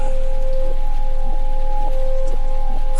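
Steady rain falling at night, a continuous even hiss that fills the whole stretch, with a faint steady tone running underneath and no voices.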